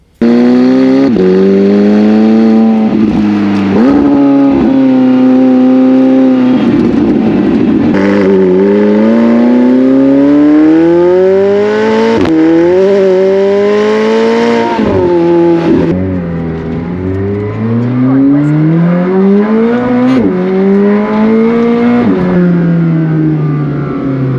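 A loud, close McLaren 765LT engine with an Inconel exhaust revs and rises in pitch repeatedly, with a raspy, resonant exhaust note droning steadily throughout.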